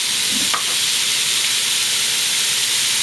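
Chopped onions and carrots sizzle in a hot Dutch oven where short ribs were just seared, a steady loud frying hiss with a brief clatter near the start as the vegetables drop in.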